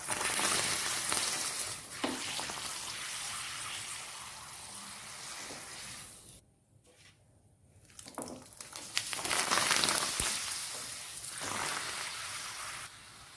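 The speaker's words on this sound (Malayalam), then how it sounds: "എണ്ണ നന്നായിട്ട് ചൂടായിട്ടുണ്ട്. നമുക്കൊരു 6 പപ്പടം വറുത്തെടുക്കാം." Six pappadams frying in hot oil in a pan, loud bubbling hiss that drops briefly to quiet before surging back, no talking.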